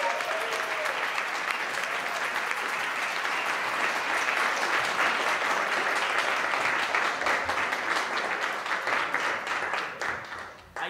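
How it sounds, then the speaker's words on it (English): Comedy club audience in New York applauding a comedian as he takes the stage, sustained dense clapping from a packed room that holds steady before tapering off at the end. "Adrian Cologne, give it up."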